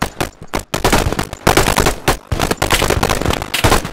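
Rifle fire in a video game comes in loud, rapid, dense bursts with short gaps between volleys, close and continuous for several seconds.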